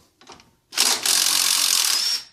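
A ratchet wrench backing out a 10mm bolt on a 1996-2004 Nissan Pathfinder during front axle work: a few brief clicks, then a loud, close, sustained whirring buzz lasting over a second before stopping.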